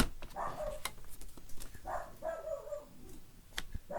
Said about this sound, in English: My dog's barking at the neighbors.